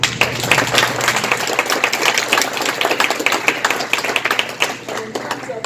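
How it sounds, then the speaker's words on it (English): Audience at an academic lecture on addiction research applauding, a dense steady patter of many hands clapping at moderate distance for several seconds, with no talk over it. "Let's applaud"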